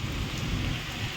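Heavy rain pours down in Dubai near Palm Jumeirah, a dense, loud, continuous hiss of drops striking surfaces with no voices.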